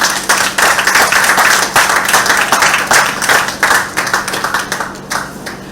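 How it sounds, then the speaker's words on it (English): An audience claps loudly and continuously in sustained applause for a speaker at the launch of a multi-purpose all-terrain wheelchair at Pointe-a-Pierre Wild Fowl Trust, gradually thinning out toward the end. "we can offer a round of applause to him"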